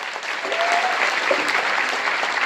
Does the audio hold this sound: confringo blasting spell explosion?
no